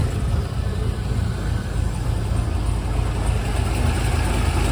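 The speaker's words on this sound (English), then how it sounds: "This is the 405 horsepower LS6 engine." A 2003 Corvette Z06 with the 405-horsepower LS6 engine and manual transmission idles steadily at close range, a continuous low rumble with no talking.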